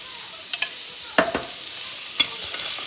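Ghee sizzles steadily in a pan while a spoon stirs and scrapes through chopped beetroot and green chillies in a few quick, clattering strokes.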